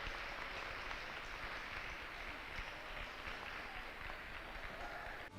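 Applause from an audience gathered at a school tree-planting event on the East Tech campus, a steady broadband patter of many hands held at a fairly even level for several seconds, somewhat distant.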